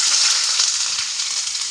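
Chopped onion hits melted ghee in a pan and sizzles loudly and steadily, a dense crackling hiss heard close up with no talking.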